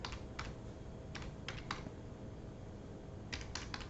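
Computer keyboard typing comes as scattered clusters of light, quick key clicks over a steady low background hum, with nobody speaking.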